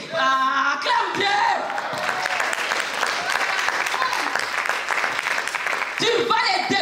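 A church congregation breaks into sustained, loud applause, acclaiming God, while a preacher's voice speaks over the start and end of the clapping.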